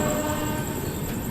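A Khajuraho–Banaras Vande Bharat train passes near, blasting a loud continuous horn over the roar and rumble of the rails, with no voices.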